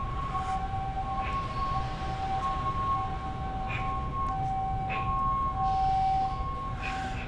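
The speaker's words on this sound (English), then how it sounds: "there's like sirens going off in the background" Faint wailing sirens sounding in the distance, steady tones drifting under a low ambient rumble, with no one speaking.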